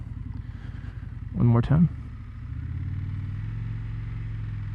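An Indian Scout 101 cruiser motorcycle makes a slow U-turn with a steady, low engine rumble throughout. Someone speaks briefly over it.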